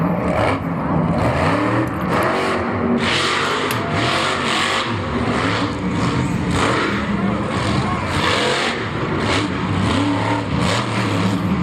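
A Monster Jam monster truck engine at Orlando 2016 roars continuously as the truck spins donuts with its rear steering failing, loud and sustained with surging revs and heavy crowd-arena ambience throughout.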